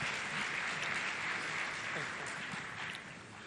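An audience claps steadily and loudly for about three seconds for architect Carlo Ratti at a talk event, then the applause begins to taper off.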